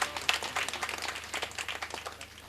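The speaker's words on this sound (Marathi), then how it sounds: "त्यांच्यासाठी जोरात टाळी झाली पाहिजे." An audience at a kirtan performance in Chas claps for the musician, a steady patter of many hands filling the space, fairly faint and continuing without pause.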